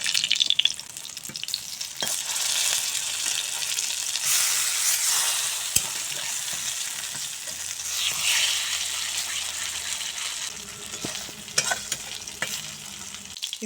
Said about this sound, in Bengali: এখন পুরভরা শিম এভাবে ব্যাটারে চুবিয়ে চুবিয়ে ভেজে নেব